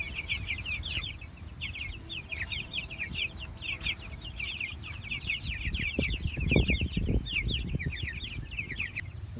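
Chickens clucking in a busy, overlapping chorus, fairly close, with rustling and low thumps in the background.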